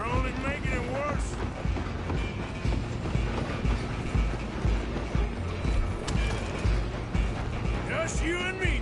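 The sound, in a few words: train running, from the video game Red Dead Redemption II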